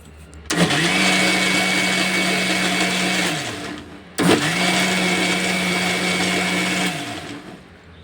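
A kitchen blender whirring through milk for homemade ice cream, running in two loud, steady bursts of several seconds each with a brief stop between, close by and without speech.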